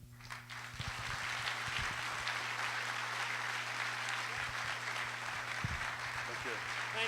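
Applause fills the room at an annual civic awards dinner after a speech, sustained and fairly even, with a steady electrical hum beneath it and faint voices mixed in.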